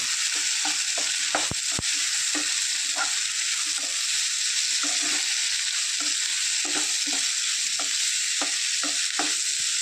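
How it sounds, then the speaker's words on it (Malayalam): Chopped bitter gourd being stirred in a hot pan over a high flame, a constant bright sizzle with repeated scraping strokes of the spoon at an irregular rhythm, close and continuous, with no talking. "പാവയ്ക്കയും ചേർത്ത് നന്നായിട്ടൊന്ന് ഇളക്കി യോജിപ്പിക്കുക."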